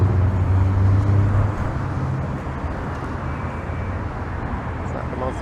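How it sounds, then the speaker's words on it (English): Car traffic rolling along wide multi-lane stroads in Toronto's Jane and Finch area, a steady broadband road roar with a heavier engine hum easing after the first second and a half. "Just big wide stroads where cars are king."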